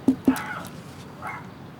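A dog inside a locked, lit house gives two quick barks close together, then a softer, muffled yelp a second later.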